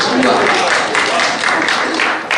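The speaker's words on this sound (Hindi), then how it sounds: "इसलिए आप ताली दे रहे हैं" Audience applause at a poetry recital during an international poetry festival in Delhi, a dense, steady wash of clapping that fills the whole moment, with a voice speaking over it.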